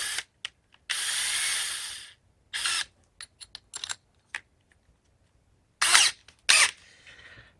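A power drill bores into a log for a log snowman in short bursts: one long whirring run, then several brief clicks and spurts, and two more loud drilling bursts separated by quiet gaps.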